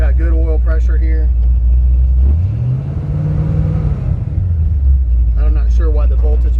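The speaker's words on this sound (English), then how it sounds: "This thing's got an awesome sounding engine." The engine of a 1966 Ford F100 idles with the hood open, then revs up and settles back into a steady low rumble, while someone talks over it before and after.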